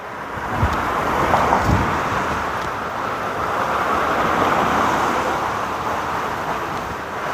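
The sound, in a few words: strong wind blowing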